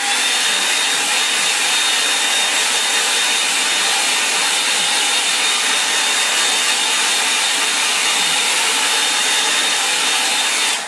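A hair dryer blows steadily to dry a watercolour painting, a loud, even whirring hiss with a faint high whine that runs unbroken from start to finish.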